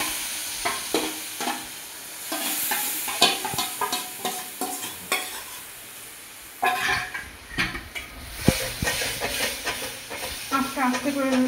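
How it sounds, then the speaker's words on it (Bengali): Cumin seeds and cardamom fry in hot oil in a pan for a moong dal, with a continuous soft sizzle broken by repeated scraping and clinking strokes of stirring, close up. "জিরেটা ভাজা ভাজা হয়ে এসছে।"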